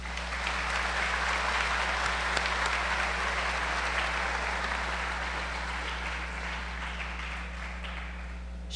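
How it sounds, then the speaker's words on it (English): Applause from the audience at a senior recognition ceremony, steady dense clapping filling a large hall over a low electrical hum, holding level for several seconds. "Please join me to give Linda a round of applause."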